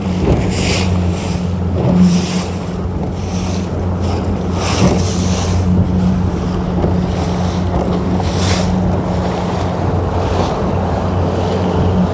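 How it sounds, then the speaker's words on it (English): Big ocean swell off the Manacles Rocks near Coverack, Cornwall, heard from a powerboat at sea: steady wash of waves and water with heavy wind buffeting the microphone and a constant low engine hum throughout. "Some of these waves out here, it's quite a big swell."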